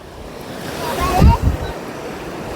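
Water rushing at Gautameshwar Mahadev makes a steady close wash, with a brief louder surge in the middle and a voice speaking over it.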